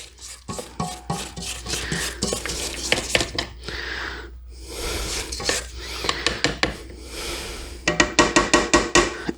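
A utensil scrapes around a mixing bowl of pumpkin chocolate chip bread batter, giving close, loud bursts of rhythmic clinking and rasping strokes with short pauses between, ending in a quick run of sharp taps.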